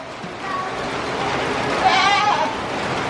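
A goat bleats faintly once, a short wavering cry, under a steady background murmur that may include distant voices.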